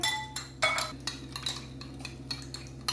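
Shawarma marinade with oregano flakes is mixed in a bowl, with sharp clinks and scrapes of a spoon against the dish coming in quick, irregular bursts over a faint background hum.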